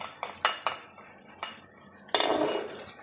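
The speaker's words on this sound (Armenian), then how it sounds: "Հիմա սխտորը կավելացնեմ," Garlic going into a pot of lamb stew with green beans, carrots and peas: a few sharp metallic clinks of spoon on pot, then a brief louder burst of sizzling near the end.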